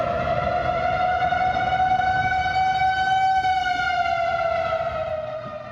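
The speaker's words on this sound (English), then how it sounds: "those are the outdoor warning sirens that literally went off just a couple of minutes ago outside our studios here in downtown Dallas" Outdoor tornado warning sirens blare across downtown Dallas, a loud, steady wailing tone with rich harmonics that holds nearly level, rising slightly and then sagging as it fades a little at the end.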